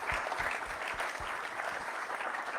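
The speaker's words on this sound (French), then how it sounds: "de les remercier par un petit applaudissement." An event audience at a launch evening gives a brief round of applause, moderately quiet and steady, with a few sharper claps standing out from the continuous patter.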